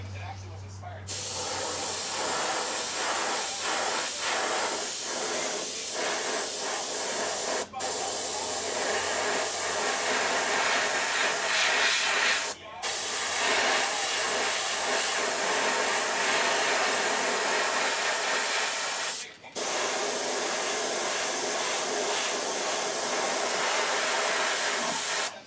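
An airbrush spraying paint onto a trout-pattern jerkbait lure hisses in long continuous bursts, broken by a few brief pauses, steady and close throughout.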